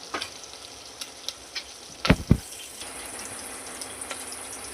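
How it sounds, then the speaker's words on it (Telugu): Soft sizzling of onion, green chilli and carrot frying in a pan for upma, with a couple of sharp clatters near the middle as the contents are stirred. "ఉల్లిగడ్డ, పచ్చిమిర్చి, క్యారెట్ అన్నీ కొద్దిసేపు గోల్డెన్ బ్రౌన్ వచ్చే వరకు ఉంచుకోవాలి"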